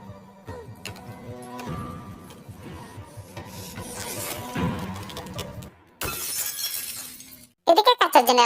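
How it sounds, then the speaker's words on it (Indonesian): Window glass shatters in the 2020 thriller film Run: a sharp, loud crash of breaking panes near the end, preceded by tense low score and rustling movement, with brief clinking fragments after. "Ketika kaca jendela itu pecah"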